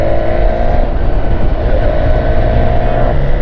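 A BMW S1000XR motorcycle engine runs while riding, a loud continuous drone with a faint steady tone above it, heard close up from the rider's position over rushing noise, with no talking.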